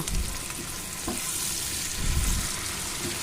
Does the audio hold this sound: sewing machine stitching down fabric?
no